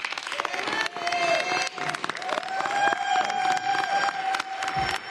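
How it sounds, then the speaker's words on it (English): Audience applause and cheering from a crowd at a New York City mayoral event, a dense and sustained roar of clapping and voices that stays loud throughout. "I'm all for claps now."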